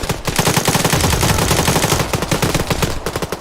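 Rapid automatic gunfire in the military video game Arma, a dense burst of overlapping shots in quick rhythm that thins toward the end, loud and close.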